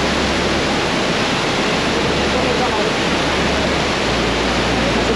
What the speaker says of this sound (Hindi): ये जो झरना है ना, इसका बहाव देख रहे हो यहाँ से कितना तेज है।